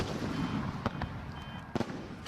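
Firework aerial shells launched from mortars burst in a few sharp, distant booms with crackling tails, separated by short gaps over a low rumble.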